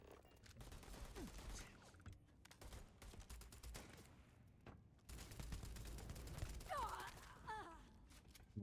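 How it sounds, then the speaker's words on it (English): Gunfire in the space game Starfield, bursts of sharp shots scattered across the stretch amid combat effects and occasional grunts and gasps, fairly quiet overall with a denser volley in the latter half. "So we are going to just start shooting people."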